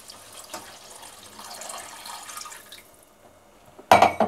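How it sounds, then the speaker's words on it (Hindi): Water splashes from a glass into a pan of spiced jimikand (suran) curry, a brief loud pour near the end after a quieter stretch of kitchen sound. "अब इसमें मैं डाल दूंगी पानी।"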